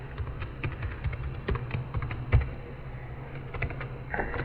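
Rapid, irregular tapping on a computer keyboard as a username and password are entered, close and continuous, with a few heavier keystrokes and no speech.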